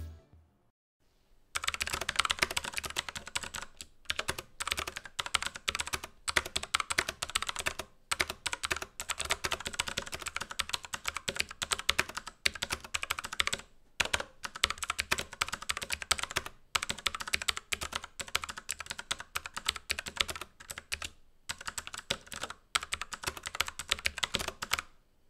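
Fast, continuous typing on a VictSing I-500 (Tomoko MMC023) tenkeyless mechanical keyboard, with crisp, close keystrokes clattering in dense bursts and only brief pauses, heard alone.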